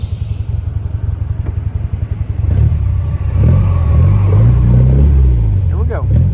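A 1959 MGA 1600 Roadster engine rumbles loudly and close, holding a steady idle before climbing into rising and falling revs, with mechanical clatter underneath.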